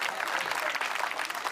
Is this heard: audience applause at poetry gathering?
yes